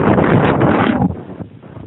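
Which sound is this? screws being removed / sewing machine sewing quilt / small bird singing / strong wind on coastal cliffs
strong wind on coastal cliffs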